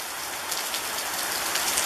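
Rain falling in Montevideo, a dense, continuous hiss of drops striking surfaces nearby, steady and unbroken with no voices.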